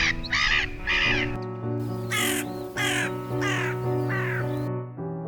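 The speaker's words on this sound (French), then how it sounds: "Un groupe de mouettes rieuses et une corneille noire." A carrion crow caws repeatedly, harsh calls in short bursts over a few seconds, fairly close, with a faint background hum.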